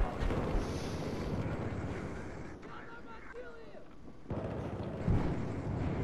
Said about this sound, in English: they're resorting to rocket launchers now